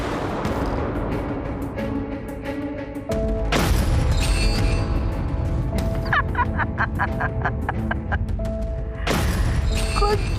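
Fireworks set off for a New Year celebration give several sharp booming bursts followed by rapid crackling pops, loud and close, with people cheering and talking between the blasts.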